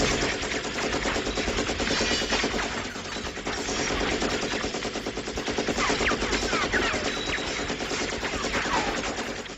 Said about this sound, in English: the Stoner 63, the first and only light machine gun in the game so far